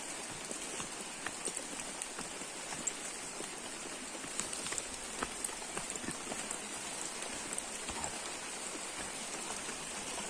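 Rain falls steadily on a rural village road, a dense, even hiss of drops with scattered sharper patters, close and continuous with no voices.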